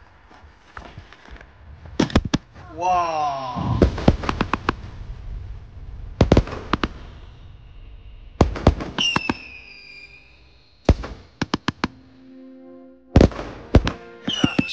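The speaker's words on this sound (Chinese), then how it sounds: "现在我们开始放烟花" Fireworks set off outdoors: a series of sharp, loud bangs and crackling bursts with rising whistles between them, spread across the clip, and one short excited exclamation from a voice.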